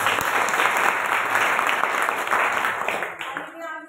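An audience claps together in a loud, sustained burst of applause at a women's self-reliance program closing ceremony at a college, fading out toward the end.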